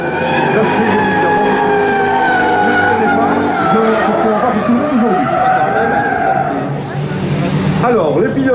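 Drift cars, including a Nissan Skyline, slide through a Falken Drift Team demonstration at Luxexpo 2013, with loud, sustained tire squeal and revving engines that rise and fall close by.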